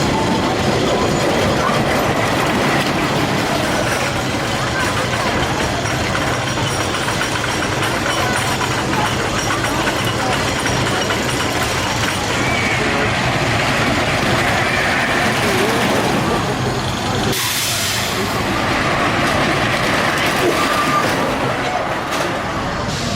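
A Pegasus roller coaster train at Mt. Olympus Theme Park roars and clatters along its track, a loud continuous rumble with rattling that swells near the end, with voices over it.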